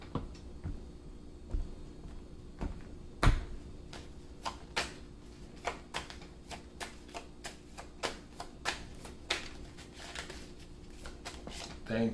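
Tarot cards are shuffled by hand, a series of sharp riffling snaps and taps repeating at an irregular rhythm, close and fairly quiet, with a louder clack near the start.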